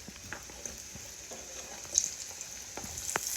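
Jamaican dumplings frying in a pan, with a soft, quiet sizzle and a few light clicks and scrapes as they are turned over.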